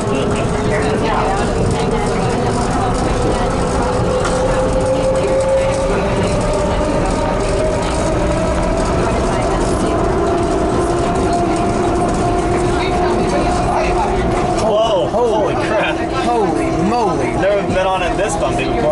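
Steady rumble and whine of the Atlanta airport ATL Skytrain shuttle in motion, a rising motor tone under recorded announcements and passengers' voices.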